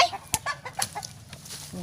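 Chickens cluck and squawk in short, scattered bursts at a rural outdoor spot where people are digging up cassava roots, with one sharper squawk standing out amid faint background noise.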